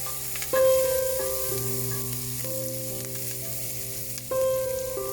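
Shallots frying in a pan for gongura rice give a steady close sizzle with crackling, over a sustained tonal hum that swells briefly at a couple of points, and no talking.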